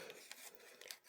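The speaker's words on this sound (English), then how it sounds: "I'm just using Creative Memories decal scissors." Creative Memories decal scissors snip through paper during a tag-and-pocket papercraft project, giving a few quiet, crisp cuts close by with no talking.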